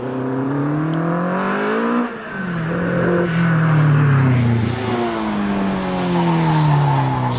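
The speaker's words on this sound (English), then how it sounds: "Off the line goes Stuart Hook in his Westfield SCIW" A Westfield SEiW race car launches off the line at the Prescott hillclimb, its engine revving hard and climbing through gears with a brief dip as it shifts, loud and close, tyres briefly squealing.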